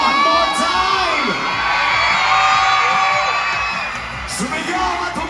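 Large crowd at a mall tour event cheering, whooping and shouting together, loud and sustained with children's yells rising and falling, a brief swell near the end.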